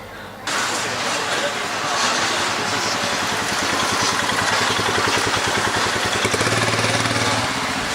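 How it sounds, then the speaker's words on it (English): A Royal Enfield Himalayan motorcycle engine runs on a factory test, cutting in abruptly and then holding a loud, rapid pulsing thump with a rough mechanical drone that grows slightly more uneven toward the end. "that was the Himalayan under test"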